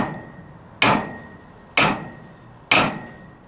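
A hammer strikes a small yellow metal sample resting on a hard metal surface, three sharp, evenly spaced blows whose ringing decays between hits, close and clear with no talking.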